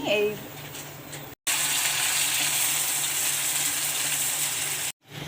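Chopped onion, garlic, green chili and ginger frying in a pan until reddish, a dense, continuous hiss and crackle up close, cut by two brief silent breaks.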